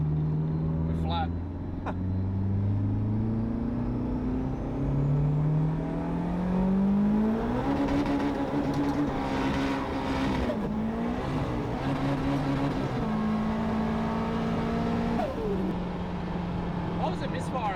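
A 600hp turbocharged car runs flat out without nitrous, its loud engine note climbing steadily, dropping briefly at each gear change and then rising again. Voices talk over the engine.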